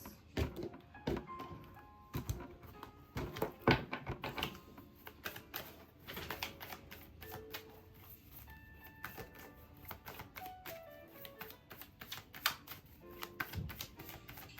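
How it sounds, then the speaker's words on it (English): Tarot cards being cut and shuffled by hand during a reading, a quiet run of crisp slaps, riffles and taps in uneven bursts, close up with no talking. "let's cut the cards"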